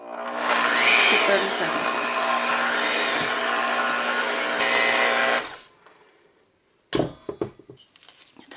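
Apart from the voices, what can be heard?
electric mixer mixing cheesecake batter on low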